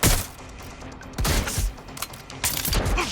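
Gunfire in Watch Dogs: Legion arrives as loud, close bursts of rapid shots in three separate volleys, each cracking sharply before easing into a short lull.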